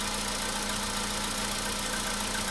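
A cold-started VW Polo Sedan engine idles steadily at moderate volume, with a faint, regular knocking tick running under the hum throughout.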